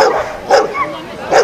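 A dog at an outdoor agility competition gives a few short barks and yips in quick succession, moderately close, with a crowd and announcer murmur faintly behind.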